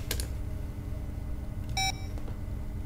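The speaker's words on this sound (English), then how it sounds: "What if I ring his number and he goes..." Short electronic tones sound as a phone number is dialed in The Blackwell Epiphany, a couple of quick clicks followed by a brief clear beep over a steady low background hum.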